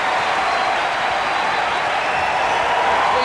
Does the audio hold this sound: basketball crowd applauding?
yes